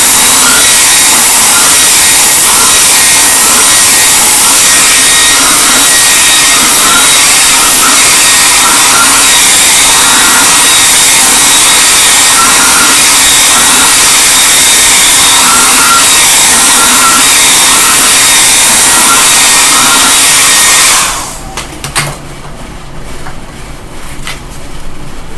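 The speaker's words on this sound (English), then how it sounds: "More hair dryer." A hair dryer blows on a wig, a loud, steady broadband whoosh lasting about twenty seconds before cutting off, leaving faint handling noise.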